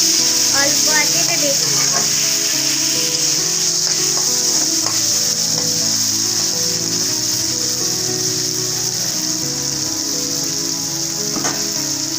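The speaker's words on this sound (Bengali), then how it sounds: "তেজপাতা দিয়ে পেঁয়াজ ভেজে নিতে হবে লাল লাল করে" Steady broadband sizzle of onions and bay leaves frying in hot oil, continuous and fairly loud throughout, with occasional scraping stirs and a voice faintly in the background.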